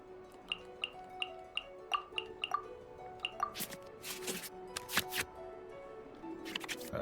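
Card game within Genshin Impact, soft clicky ticks of cards being returned to the draw pile in a quick regular series, then brighter sweeping flicks, over quiet game music.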